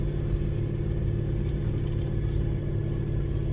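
A car engine runs steadily after a downshift into third gear, held below about 2,000 RPM while braking. It makes a constant, close low hum and rumble, with no talking.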